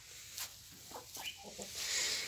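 Chickens on a home farm, with young hens and two roosters, one black and white, give a few faint, scattered clucks and short calls close by, over a steady low background hiss.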